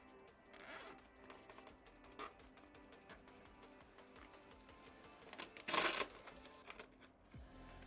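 Zip ties are ratcheted tight during a custom PC build, giving several quick rasping zips at a close, fairly quiet level, with one longer, louder pull near the end.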